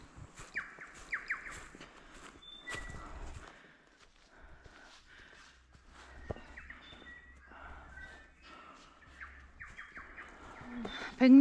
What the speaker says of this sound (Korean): 언제나 그렇듯 새들이 맞아주네요.